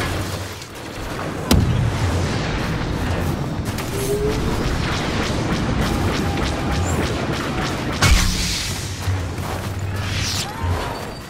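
A turret blasting in Star Wars Battlefront 2, loud booming shots at roughly 1.5 and 8 seconds over a dense, roaring battle wash of explosions and gunfire that never lets up.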